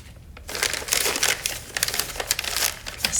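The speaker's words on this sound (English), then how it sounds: "let's take plastic out." Close, loud crinkling and crackling of plastic being pulled away from a freshly cast resin sculpture, with irregular crisp bursts and no speech.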